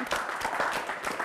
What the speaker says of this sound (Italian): Ti facciamo un applauso, Massimo, perché hai indovinato.